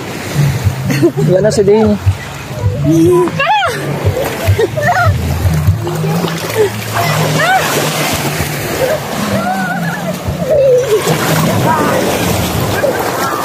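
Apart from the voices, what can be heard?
ocean waves and splashing water at a beach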